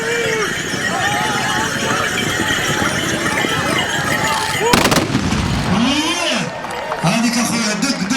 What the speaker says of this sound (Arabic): هذيك اخويا دق طلقة موفقة لسربة المقدم بوعزة النصيري